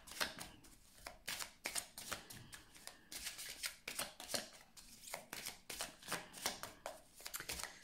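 Oracle cards shuffled by hand in a quiet room, a steady run of soft riffling flicks and slaps, close but faint, with no talking.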